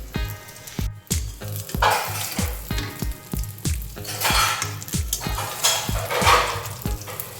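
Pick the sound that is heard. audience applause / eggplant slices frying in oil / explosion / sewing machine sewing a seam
eggplant slices frying in oil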